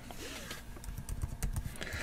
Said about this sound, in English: Let's check the keyboard.